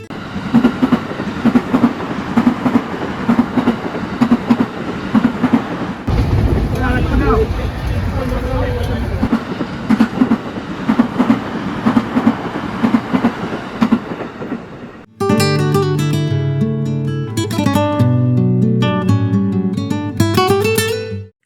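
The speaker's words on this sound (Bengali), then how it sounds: "এই ট্রেন আমাকে নিয়ে যাবে towards the coastal paradise Vizag" A passenger train running toward Vizag on a twelve-hour coastal journey rumbles steadily with clattering wheel noise, while a voice talks over it and music joins later.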